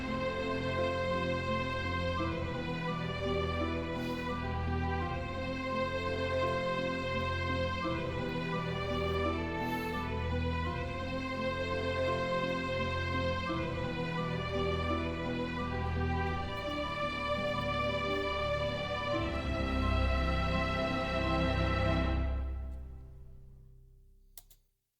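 An orchestral arrangement plays continuously at a fairly soft level for about 25 seconds, layered and sustained, before fading out at the end, with no voices.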